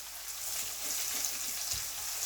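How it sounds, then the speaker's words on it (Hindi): Cumin seeds and garlic fry in hot oil in a pan for a lamb karahi, giving a steady, dense sizzle that holds without a break, close and alone with faint low bumps beneath. "अब मैं इसमें 1 टीस्पून ज़ीरा ऐड कर दूंगा।"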